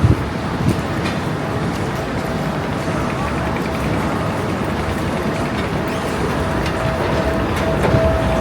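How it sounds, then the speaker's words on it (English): A Hong Kong tram runs along a city street, a steady rumbling rail noise with faint clatter that stays constant throughout, mixed with traffic and street ambience. "It's where the trams run over that side."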